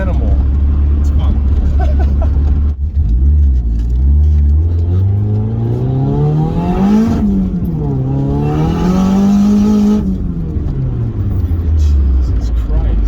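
Turbocharged Mazda Miata making about 250 wheel horsepower, engine revving hard while driving, a loud rising and falling drone that swells and drops across the run, heard from inside the car with road and wind noise.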